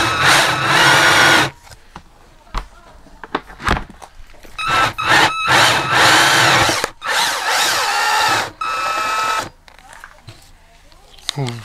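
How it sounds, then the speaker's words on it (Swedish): A power drill bores a hole through a motorhome body in repeated loud whirring bursts that rise and cut off, with short gaps between and a voice heard around the drilling. "Nu har jag borrat hål i min bil."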